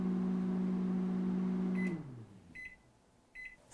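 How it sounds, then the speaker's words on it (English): A microwave oven heating a casserole dish hums steadily, then shuts off and gives a few short, high beeps. "Casserole dish into the microwave, 5 minutes to heat it up."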